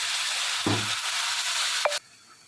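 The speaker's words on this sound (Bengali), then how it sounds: "পেঁয়াজটা আমার ভাজা হয়ে এসেছে, তো আমি দিয়ে দিচ্ছি একটু পানি।" Water hits fried onions sizzling in a pan, a loud steady hiss with a brief gurgling burst, a sharp clatter, then sudden quiet.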